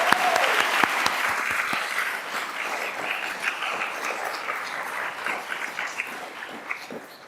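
A college convocation audience applauds orientation week leaders, organizers and volunteers: a broad, steady roar of clapping that starts with a few sharp claps and gradually tapers over several seconds.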